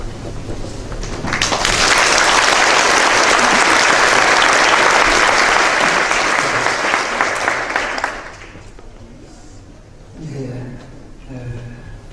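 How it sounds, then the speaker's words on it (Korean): A church congregation gives warm, full applause to welcome a pastor at a retirement and ordination thanksgiving service, loud and sustained for about seven seconds before fading, followed by a speaking voice. "우리 뜨거운 박수로 환영하겠습니다"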